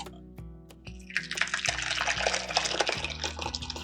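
Whey pours and drains from fresh paneer through a muslin cloth into a pan, a close, continuous splashing trickle that builds after a few scattered drips.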